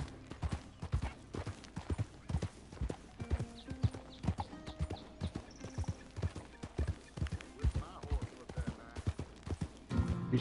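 Rapid, rhythmic hoof clip-clops of a horse at a steady pace in Red Dead, close and clear, with occasional voices and other game sounds mixed in.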